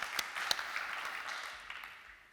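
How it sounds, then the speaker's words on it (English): A conference audience at a media festival in Rome claps as a speaker is welcomed onto the stage, a faint, steady patter of applause that fades slightly toward the end. "You can clap him now and when he comes on."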